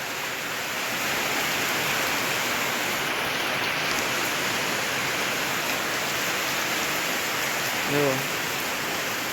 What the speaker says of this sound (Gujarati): તો પાછો વરસાદ ચાલુ થઈ ગયો છે